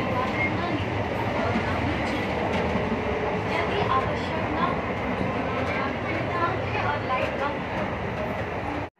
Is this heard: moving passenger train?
yes